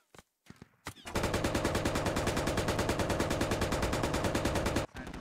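Rapid sustained machine-gun fire from a bunker and a Humvee hammering an MTLB armored vehicle in Squad, a steady loud burst of evenly spaced shots lasting several seconds, preceded by a few scattered single shots.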